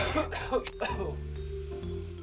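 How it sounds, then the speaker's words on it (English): People smoking from a bowl break into coughing and throat clearing, several loud close coughs in quick succession followed by a low lingering hum. "you'll hear a couple coughs from them trying to get it fired up good"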